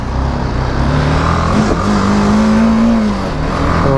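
A BMW G310GS motorcycle engine drones steadily and loudly while riding, its pitch rising and falling slightly as the throttle changes, with continuous wind and road noise.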